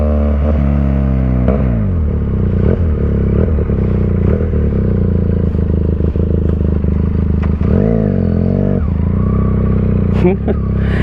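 A QJ Motor SRK 400 motorcycle idles loudly and close through its exhaust, a steady throbbing drone with a few small throttle swells, while someone talks over it throughout.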